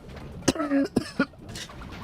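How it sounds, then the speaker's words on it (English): A couple of short, sharp coughs up close, with a brief voiced rasp between them, then quiet. "I keep getting cut off because I got a cough"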